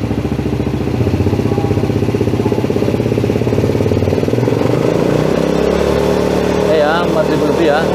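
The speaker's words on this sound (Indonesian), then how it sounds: "sekarang kita coba gas sampai 5000 rpm" A motorcycle engine is revved up to 5000 rpm while its charging system is tested, giving a loud, close, steady mechanical roar that eases off near the end, with someone talking over it.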